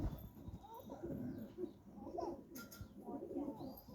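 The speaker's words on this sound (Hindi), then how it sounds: "देखो कुछ कबूतर तो सेट हो रखे" Pigeons coo over and over at close range, their soft throaty calls rising and falling across the clip beside a faint chirp, with low background murmur and no clear speech.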